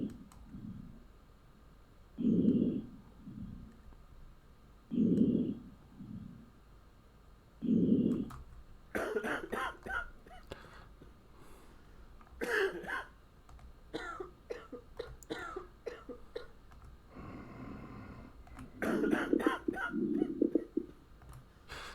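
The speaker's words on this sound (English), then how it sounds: "he's got a cough" Three short, low coughs from a character in the zombie-checkpoint game Quarantine Zone: The Last Check, evenly spaced, followed by someone talking over clicking and keyboard-like tapping.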